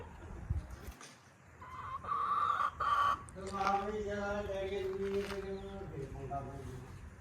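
Farm hens, including newly bought young birds, cluck in bursts with a few longer rooster-like calls, fairly close, mixed with someone talking.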